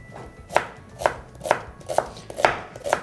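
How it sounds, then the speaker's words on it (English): A knife finely slicing onion on a chopping board, six evenly spaced crisp thuds about half a second apart, close and clear with no voices. "So I just want some finely sliced onion."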